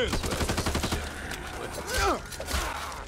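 Rapid revolver fire in the co-op zombie shooter Back 4 Blood, a quick run of loud shots in the first second, followed by game effects and mechanical clatter with some voice chatter underneath.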